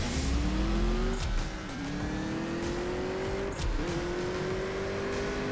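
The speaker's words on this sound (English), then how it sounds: "we got Max again in the 911 GT3R Rennsport" Porsche 911 GT3 RS race car in the CSR2 racing game, with a loud, steady engine rising in pitch through several gear shifts, brief dips at each change, and no talk.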